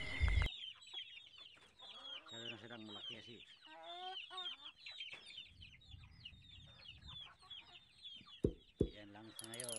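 Free-range chickens cluck and squawk in a busy, overlapping chorus, some calls close and sharp and others softer, with occasional louder bursts and faint background noise.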